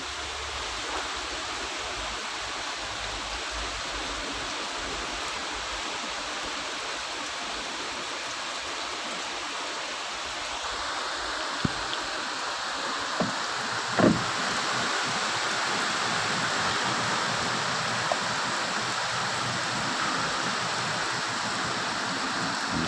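Rain pours continuously as a dense, unbroken wash of noise, joined partway through by a few sharp knocks and clicks nearby; no one speaks.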